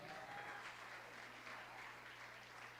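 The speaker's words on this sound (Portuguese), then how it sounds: "Aplauda o Senhor" Church congregation clapping in praise of the Lord, a continuous, fairly faint wash of applause with a steady low hum underneath.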